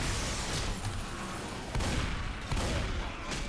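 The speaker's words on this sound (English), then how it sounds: "This is the auto shotgun." Rapid auto shotgun blasts from Left 4 Dead 2 gameplay, a string of loud, dense bursts with sharp onsets near 1.8 s and 2.5 s over a continuous din of game action.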